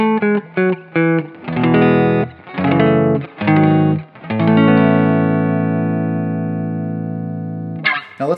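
A Stratocaster electric guitar fitted with a P90 pickup plays clean tones through an effects setup, with short plucked notes and chords in an uneven rhythm, then a long chord left ringing and slowly decaying before a final strum.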